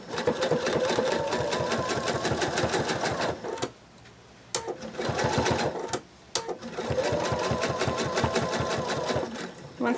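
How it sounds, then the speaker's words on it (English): A sewing machine top-stitches along a small dragon plush's wing, its rapid needle chatter running loud and close in long bursts, broken by two short pauses before resuming at the same pace. "I'm going to top sew along this, starting at the base of the wing here."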